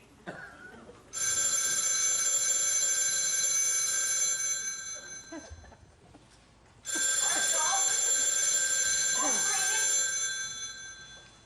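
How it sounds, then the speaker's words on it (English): A telephone bell rings in two long, loud, continuous bursts separated by a short pause, with people talking quietly beneath the second ring. "Answer the phone."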